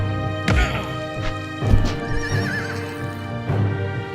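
A horse whinnies loudly and repeatedly, with clip-clopping hooves and thuds close by, in a dramatized historical scene about William Lamport escaping the Inquisition.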